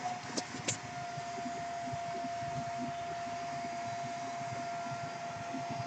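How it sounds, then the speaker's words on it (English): A vacuum motor drones steadily with a constant whine, a couple of faint clicks near the start, running alone without talk. "we've got a good vacuum"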